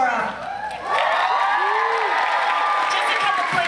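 A live audience at a Cobra Kai event in Liverpool cheers and applauds loudly, with whoops and shouting that swell after the first second and hold steady, a voice calling out over the crowd.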